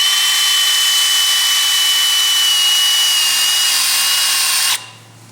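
A step drill bit cuts through Lexan plastic sheet for a white water jet boat window, giving a loud, steady high-pitched whine with grinding that continues evenly, then stops abruptly near the end.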